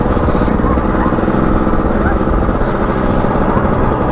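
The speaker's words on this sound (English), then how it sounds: "my grandson, Pop, let's ride the green bike" A small motorized green ride-on bike engine runs loud and steady up close, a constant buzzing drone with no breaks.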